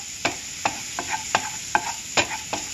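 Garlic cooking in a pan, stirred in a steady rhythm of short scraping strokes about every half second over a soft continuous sizzle, close up with no voices.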